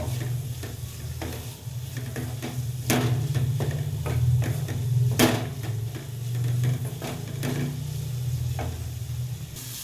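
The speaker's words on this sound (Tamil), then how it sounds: "போட்டுட்டு அந்த மிளகாய் வாடை போகிற அளவுக்கு வதக்கணும்" Gooseberry pickle with chili powder being sautéed in oil, a steady close sizzle with repeated spoon stirs and scrapes against the pan, no voices.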